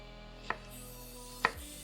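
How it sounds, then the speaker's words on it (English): A knife dices vegetables, maybe red peppers for roasted chicken hoagies, on a cutting board in a home kitchen, landing two sharp, separate chops about a second apart with a quiet pause between. "So I'm just going to dice these up."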